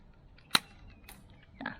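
A Glock 18 airsoft BB gun fires once outdoors at a foam target, giving a sharp, quiet snap followed by a faint tap of impact and a soft rustle.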